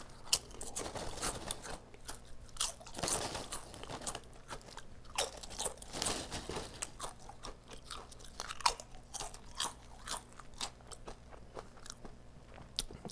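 Sour cream and onion potato chips crunched between the teeth, a steady run of crisp, close bites and chewing crackles with no talk.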